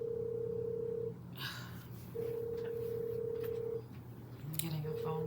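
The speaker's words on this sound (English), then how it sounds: "getting a phone call. Hold on." An incoming phone call rings in faint, repeated electronic tone bursts, separated by short gaps, against a low background hum.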